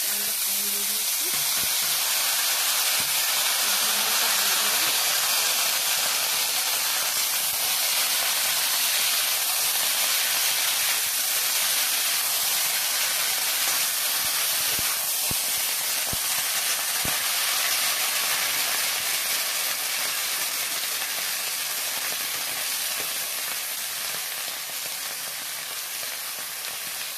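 Bori fry in hot oil with panch phoron and dried chilli, a continuous close sizzle and hiss that holds steady throughout and fades slightly toward the end.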